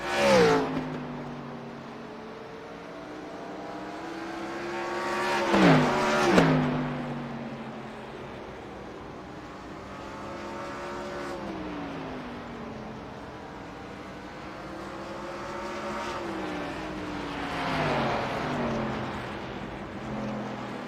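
Race cars lap the Nashville Fairgrounds oval during a 200-lap race, engines whining and rising and falling in pitch as they pass, with a louder nearby pass around the middle and a steady roar of the field throughout.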